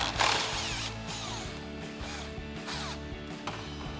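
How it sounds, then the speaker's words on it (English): Impact wrench with a 10mm socket spinning out grille bolts on a 2014-2018 GMC Sierra 1500, a steady whirring, rattling run of tool noise close up, with short pulses throughout. "we'll grab our 10mm socket on our impact"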